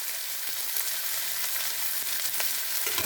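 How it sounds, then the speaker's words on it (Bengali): Lentil dumplings (bori) frying in hot oil, a dense steady sizzle close and fairly loud, with faint soft stirring taps and no talking. "বড়িগুলো ভেজে নেব, ব্রাউন কালার করে ভেজে নিতে হবে"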